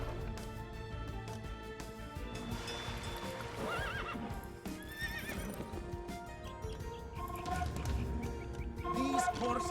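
Horse archers neighing and whinnying with steady clip-clop of hooves in the strategy game Age of Empires 2, set over a busy game soundscape with music and ambient effects throughout.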